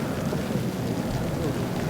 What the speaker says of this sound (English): it has been raining all day